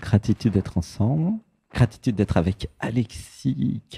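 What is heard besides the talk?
No distinct noise like a dog, phone or traffic.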